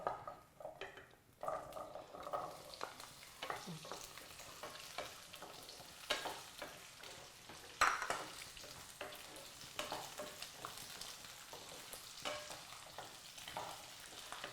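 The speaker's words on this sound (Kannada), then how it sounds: "ಎಣ್ಣೆ ಬಿಸಿ ಆಗಿದ್ದೆ ಈ ತೊಂಡೆಕಾಯಿ ಹಾಕೊಂಡ್ಬಿಡೋಣ" Cut ivy gourd (tondekai) frying in hot oil, a steady sizzle and crackle with occasional stirring clatters against the pan, close and moderately quiet, no talk.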